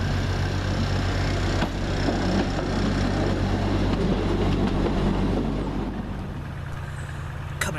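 Train 2108 passing through Stourbridge Junction railway station, a loud rumbling rush of rail noise that fades slightly toward the end.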